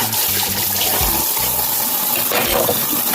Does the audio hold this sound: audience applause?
no